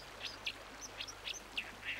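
A white-throated dipper calls beside a rushing stream, with a few short, bright notes spaced irregularly over a steady background wash of water.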